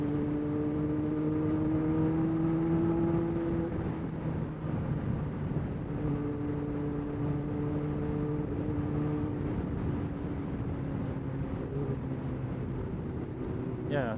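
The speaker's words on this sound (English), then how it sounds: "the bike's running nice" A Kawasaki ZX-12R motorcycle engine runs steadily nearby, a droning hum with wind buffeting the microphone and someone talking over it throughout.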